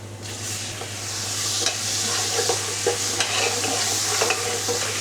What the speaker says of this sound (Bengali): এখন আমি আদা রসুন পেস্ট দিয়ে দিচ্ছি